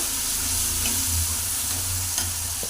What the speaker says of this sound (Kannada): ಅರಿಶಿನ ಪೌಡ್ರ್ ಹಾಕಿಬಿಟ್ಟು ಇನ್ನೂ ಸ್ವಲ್ಪ ಫ್ರೈ ಮಾಡಬೇಕು.